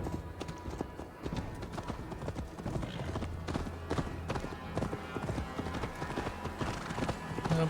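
Horse hooves clip-clop in a steady, continuous rhythm, with an occasional faint whinny in a busy game soundscape.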